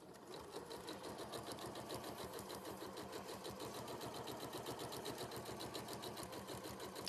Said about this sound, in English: So I'm just going to top stitch 1/4 inch away, making sure it's on a good top stitching stitch